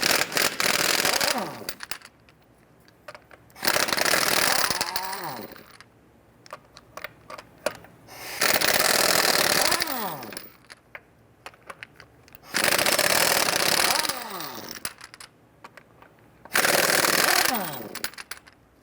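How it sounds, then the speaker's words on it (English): A power impact tool with a 21mm socket loosens and spins off the front lug nuts of a 1994-2004 Ford Mustang, in five loud rattling bursts of about two seconds each, close up, with brief quiet gaps between nuts. "Go ahead, loosen and remove the lug nuts"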